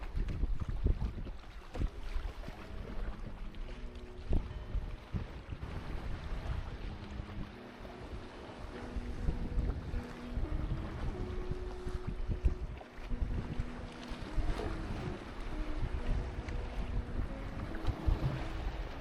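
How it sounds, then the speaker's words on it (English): Canoe paddled out of a bay and around a headland on the sea, with gusty wind buffeting the microphone, soft water sloshing and faint paddle strokes under steady low rumbling, and no talk. "Paddling out of the bay, we started around the headland"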